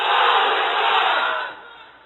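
A large crowd of unmarried men at a religious gathering roars a takbir chant in unison, one loud sustained shout that swells and then fades away, with no single voice distinct.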